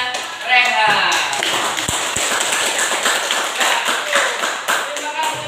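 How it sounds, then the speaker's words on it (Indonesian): A classroom of students claps loudly and quickly for a student group, with dense, close hand claps running throughout and a voice heard briefly at the start. "tepuk tangan untuk kelompoknya Rehan."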